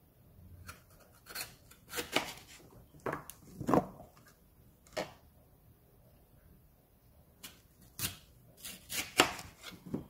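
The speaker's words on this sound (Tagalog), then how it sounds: "hiwain natin" Knife cutting vegetables on a board while preparing a breakfast dish: irregular bursts of crisp chops and slices, some in quick runs, separated by brief pauses, close and moderately loud with no talking.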